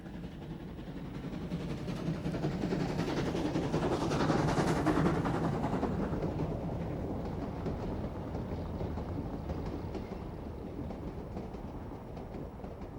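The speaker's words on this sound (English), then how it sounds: "The Swartberg range is prominent in this view of 19D number 2753, leading a passenger train between Tuurwater and Barandus." South African class 19D steam locomotive 2753 hauls a passenger train between Tuurwater and Barandus below the Swartberg range, a steady rumbling roll with faint rhythmic chuffing heard from a distance that swells slightly midway, then holds.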